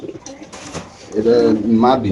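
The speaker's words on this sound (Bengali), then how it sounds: "এখানে আছে একটা দেশি কবুতর" Caged pigeons at a Bangladeshi market coo in soft, throaty murmurs close by, with a local pigeon among them, mixed with someone talking over the birds.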